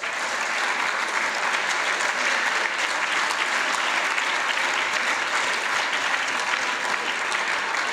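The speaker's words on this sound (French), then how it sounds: "Bravo, applaudissez-les." Sustained audience applause welcoming students at the Rencontres Économiques d'Aix conference, a dense and even clatter of many hands holding steady for the whole stretch.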